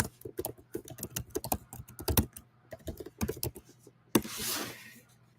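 Rapid keystrokes on a computer keyboard come in irregular bursts with brief pauses, close and fairly quiet, followed by a louder stretch of broadband rustle near the end.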